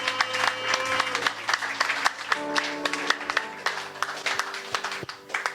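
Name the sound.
church congregation applauding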